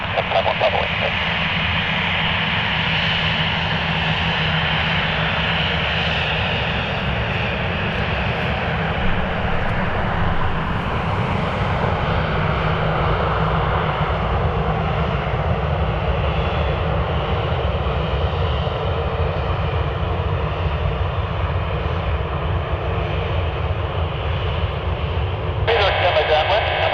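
Airliner jet engines roaring during takeoff on runway 6 right at County Airport, a steady loud broadband rumble that holds for the whole stretch, with radio voices talking over it.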